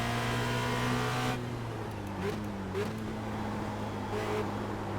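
A Formula Renault race car in the iRacing sim lapping Spa-Francorchamps, its engine droning steadily near and loud, then dropping in pitch as the driver lifts, with faint shifting blips after.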